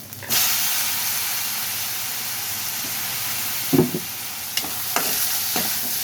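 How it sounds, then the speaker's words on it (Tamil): Sliced onions sautéing in a hot pan for a Tamil drumstick stir-fry, a loud steady sizzling hiss throughout with a few stirring scrapes and clanks near the end, no talk. "வெங்காயம் நல்லா வதங்கிடுச்சு"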